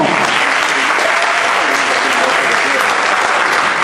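A large audience at a handball tournament launch ceremony gives the Bandama Handball Club a loud, dense, continuous round of applause that holds steady throughout.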